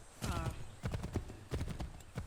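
Horse hooves clip-clop in the video game Assassin's Creed 3, a rapid galloping patter in uneven bursts over game background ambience, moderately close.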